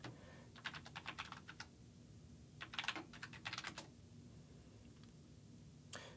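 Typing on a computer keyboard: rapid, faint clusters of key clicks in short bursts with brief pauses between, close by in a quiet room.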